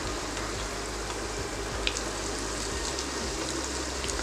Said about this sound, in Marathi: आता हे दोन्ही पण साइडून आपल्याला व्यवस्थित फ्राय करून घ्यायचं आहे